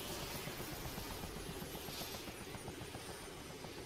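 Helicopter in Arma 2: Operation Arrowhead, a steady rotor chop with a dense engine roar throughout, close and loud, no talking.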